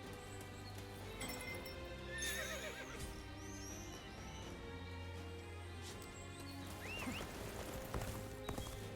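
A horse whinnies over clopping hooves in the video game Dynasty Warriors Origins, with game music and effects underneath and a second neigh near the end, moderately loud.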